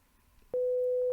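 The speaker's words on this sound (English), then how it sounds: "we have a nice set of stereo test tones" Steady pure test tone playing from the left stereo speaker, starting abruptly about halfway through and holding loud and unchanging to the end after a near-silent lead-in.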